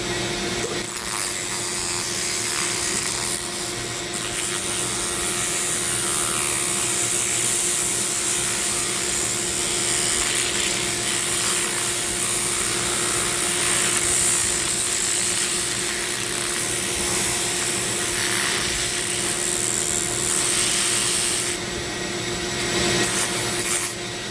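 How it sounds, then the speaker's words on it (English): Steady shop vac suction through a downdraft table mixed with the whine and rubbing of a Dremel carving a zebra wood ring, loud and continuous throughout. "Suck it down there. Yeah, hell yeah, straight to my shop vac."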